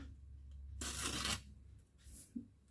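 A labeled item is ripped in two while green borscht greens are packed for freezing, one quick rasping tear lasting about half a second, faint and close, followed by light rustling and no speech.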